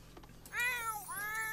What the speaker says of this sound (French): Oh, le chat sur la table.